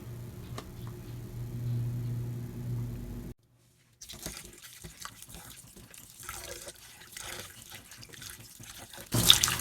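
Fish fillet from a Vietnamese product rinsed under a running kitchen tap, a steady close stream of water splashing and trickling with a brief pause before the flow resumes and briefly surges louder at the end.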